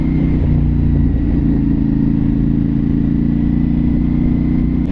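A motorcycle cruises at about 40 miles an hour, its engine a steady loud drone with wind rush, a slight shift in pitch early on and no talking over it.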